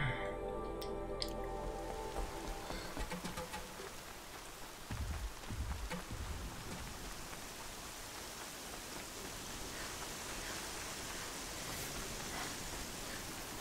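Rain pours in the video game Horizon Zero Dawn, a quiet, dense, steady hiss with a few soft low thumps early on and no voices.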